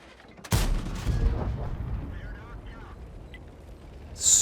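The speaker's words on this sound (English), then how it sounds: "Look at this shot on this Bourrasque." A single heavy cannon shot from the Bourrasque, a French tier 8 medium tank in World of Tanks, booms loudly and rolls off into a long fading rumble, with a faint voice in the background.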